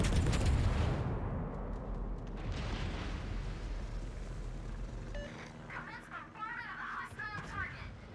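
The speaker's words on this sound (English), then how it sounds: "First salvo up." A battleship's main guns fire a salvo in World of Warships: a loud deep boom opens, then a long rumbling roar decays over several seconds, with a voice faintly audible in the later part.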